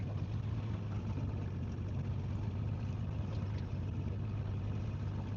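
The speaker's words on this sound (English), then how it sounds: "I'm running the outboard as a kicker right now" Outboard motor on a fishing boat, running as a kicker while trolling on Holter Lake, Montana, a steady continuous drone at constant pitch throughout, with no talking.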